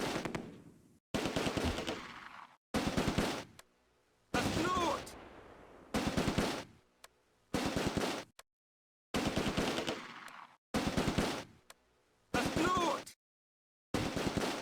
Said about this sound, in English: Another heavy machine gun only 50 meters away.